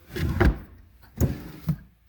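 Shop drawers slide and knock: a scraping pull, then a couple of shorter thuds as drawers move and close nearby, fairly quiet.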